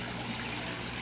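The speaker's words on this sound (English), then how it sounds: "the waterfall is very strong, pretty consistent water flow" A strong waterfall pours steadily into a koi pond, a constant close rushing wash of water with no other sounds.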